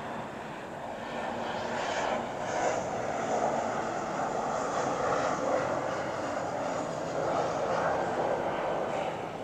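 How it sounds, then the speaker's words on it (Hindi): An airplane passes overhead in an outdoor garden setting, its engine drone a broad, steady roar that holds for several seconds without fading. "तो एक जहाज़ भी आ रहा है,"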